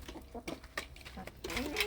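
Chickens feeding near a feeder make soft, close clucks and short calls in an irregular rhythm, with quiet rustling between them.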